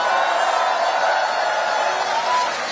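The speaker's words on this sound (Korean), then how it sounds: "우리 옆에 계신 분들 박수 한번 쳐주세요." A large crowd at an outdoor political rally in Ulsan breaks into dense, sustained applause, loud and continuous throughout with cheering mixed in.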